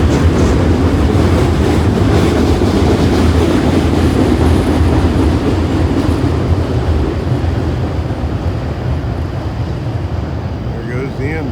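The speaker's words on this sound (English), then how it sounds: "About 200 cars on this train." A long freight train of about 200 cars rolls past at night, a loud, close, continuous rumble and clatter of wheels on rail that holds steady and then eases slightly toward the end.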